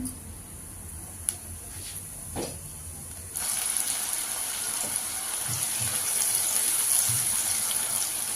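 Running tap water gushes over an ash gourd as it is washed in a home kitchen. A few seconds of quiet clinks come first, then the flow starts abruptly and holds as a steady, close splash.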